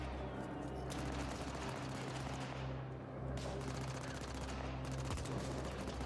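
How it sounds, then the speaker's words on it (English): Sustained automatic gunfire aimed at the player in The Ascent, dense rattling bursts in several clusters over a constant low hum, fairly loud and continuous. "Who's shooting me?"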